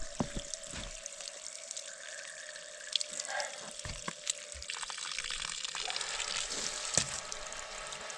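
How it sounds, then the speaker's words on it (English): Water runs through a small hose on a concrete-ramp building job, a faint steady trickle and splash broken by a few soft knocks and clicks. "It's not letting enough water pass, but this is pretty small hose, honestly."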